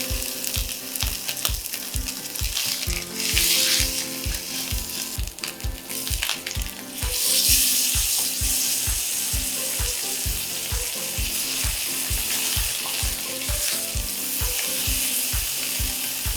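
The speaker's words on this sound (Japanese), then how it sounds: "少し油を敷きまして、そこに肉を入れます。" Sirloin beef searing in a little oil in a pan, a loud continuous sizzle with steady crackling and some clanking, sustained throughout.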